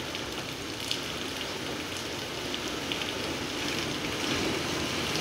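Heavy rain pours down outside near a Durga temple, a dense continuous hiss of drops on surfaces at a steady moderate level with occasional slightly louder patters and no voices.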